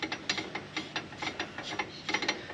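Ratchet wrench tightening bolts during an airbag suspension install on a 76 Series Land Cruiser, a quick run of close, crisp clicking bursts in uneven spurts with no talk.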